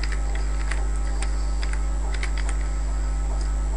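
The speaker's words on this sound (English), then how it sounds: "What we'll do is just type in the database name here" Database name typed on a computer keyboard: a run of light, uneven key clicks close by over a loud steady electrical hum, with no voices.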